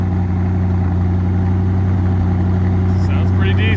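A 1993 Lexus LS400 engine running at a steady idle after starting, a close, loud low hum with a constant drone and a brief higher-pitched sound near the end.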